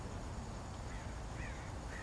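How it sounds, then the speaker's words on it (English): Faint crow caws overhead against a steady wash of outdoor background noise, a few short calls near the end. "I hear more crows above me."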